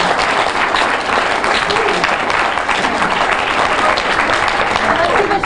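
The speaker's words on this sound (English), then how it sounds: "you should all give yourself a round of applause" Students at a regional awards ceremony in a university hall break into loud, dense applause, continuous overlapping clapping from a large crowd that stays strong and steady from start to finish.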